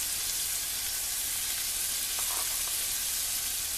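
Potatoes for mash boil in a pot, giving a faint, steady bubbling hiss with a few soft pops, no talking.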